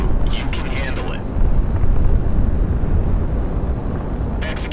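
Explosion in the jet combat game Project Wingman, a deep sustained low rumble with roaring wind-like noise, with radio chatter over it at the start and end.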